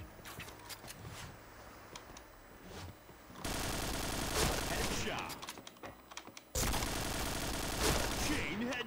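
Video game shooter gunfire, rapid automatic bursts crackling in two loud stretches separated by quieter pauses, while a player talks excitedly.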